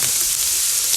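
A steady, bright sizzle of minced pork browning in a hot pan for bolognese sauce, a dense crackling hiss with no talking.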